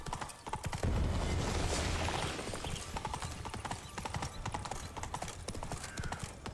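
Roach, a horse in The Witcher 3 video game, gallops in a fast, rhythmic clip-clop of hooves, steady and close, with a brief whoosh of movement early on.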